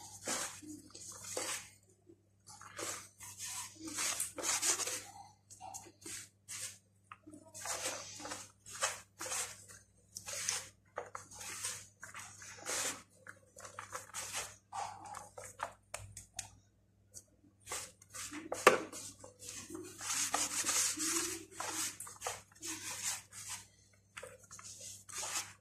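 Hands rubbing and squeezing flour with ghee (samna) while kneading dough for soft qurs buns, with salt, sugar and baking powder mixed in: close, soft squelching and pattering bursts repeating irregularly, no talking.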